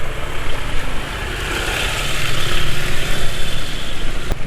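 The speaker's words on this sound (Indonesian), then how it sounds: "Entah mengapa ya suaranya mesin agak kasar." A motorcycle engine running on Repsol Moto 4T oil drones loud and close with a rough, uneven idle texture, a continuous steady mechanical rumble throughout with no talk.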